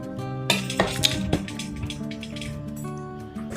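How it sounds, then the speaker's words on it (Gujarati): A metal pot and a perforated vessel are set down for draining turmeric-and-salt-soaked mango pieces for pickle, giving a few sharp clanks and clinks followed by soft scraping of the mango being moved. "હવે આપણે એને નીચે એક તપેલું રાખવાનું અને કાણાવાળું વાસણ લઈ અને એમાં આ કેરી કાઢી લેશું"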